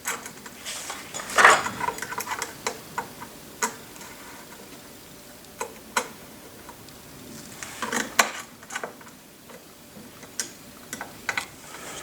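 An Allen key loosens a screw on a CNC linear guide rail. Crisp metallic ticks and clicks come close and at an irregular pace, some in quick pairs, others spaced seconds apart, against quiet surroundings.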